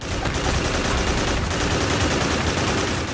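Sustained turret gunfire in the PS3 shooter Haze, set in a dark underground corridor maze: a dense, continuous rapid-fire roar with no break, loud and close throughout.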